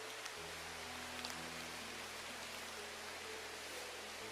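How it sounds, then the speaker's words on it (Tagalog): Rain keeps falling hard outdoors as the downpour grows heavier, a thick, even roar of water that runs unbroken throughout, with a faint steady hum beneath and no voices. "Lumakas na yung ulan, Brad ba?"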